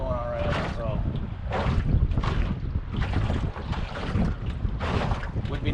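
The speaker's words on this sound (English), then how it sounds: "And you can tell it's windy." Strong wind buffets the microphone with gusty low rumbling while fishing for striped bass from a boat, loud and continuous, with some talking underneath.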